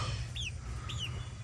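Chickens in a backyard flock of booted bantam hens and a barred rock rooster give two short, faint rising calls over a low, steady rumble of background noise.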